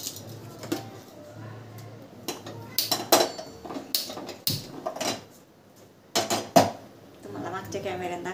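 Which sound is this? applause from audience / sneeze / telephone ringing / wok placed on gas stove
wok placed on gas stove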